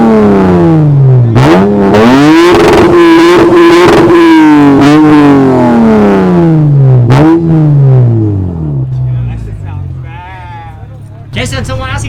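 A car engine recently fitted with an expensive aftermarket part revs up and down in repeated close, loud swells that rise and fall in pitch, with people talking nearby.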